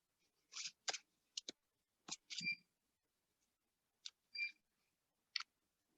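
Scissors snip through portions of paper in short, crisp cuts, a handful of quiet isolated snips with pauses between them.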